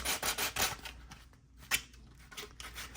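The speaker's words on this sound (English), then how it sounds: "just using my block sander here wherever possible, even on these shorter straight sections here" A flat block sander rubs across a custom body panel for an Axial Gilamon model, giving repeated short scraping strokes in a steady back-and-forth rhythm, close and fairly quiet, with a brief pause midway.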